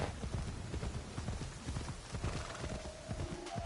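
A horse's hooves clip-clop steadily in the video game Assassin's Creed Shadows, a brisk, even trotting rhythm, moderately close, with a brief neigh near the end and no talk.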